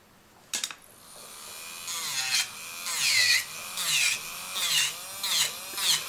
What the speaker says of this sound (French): Alors pour ça, je vais utiliser une tête carbide.